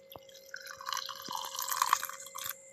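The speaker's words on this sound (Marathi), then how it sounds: "आता याच्यावर मी पाणी ओतते" Water pours over washed sago pearls, a splashy trickling stream broken by sharp drips near the start and end, close and moderately loud with no talking.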